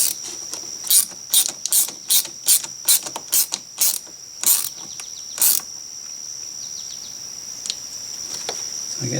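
A ratchet screws down a part while wiring a trailer hitch on a Mazda CX-50, giving a series of about a dozen sharp, close clicking bursts in uneven rhythm, then falling quiet over faint background noise.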